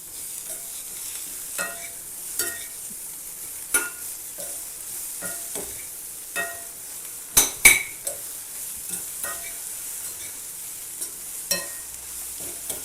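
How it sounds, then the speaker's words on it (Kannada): Cucumber, tomato, onion, coriander leaves and grated carrot being tossed together for a lotus seed salad, a steady run of soft stirring scrapes and light clinks of a spoon against a bowl, close and without talk. "cucumber tomato onion coriander leaves ಮತ್ತೆ ಗ್ರೇಟೆಡ್ ಕ್ಯಾರೆಟ್ ಎಲ್ಲ ಮಿಕ್ಸ್ ಮಾಡ್ಕೋಬೇಕು"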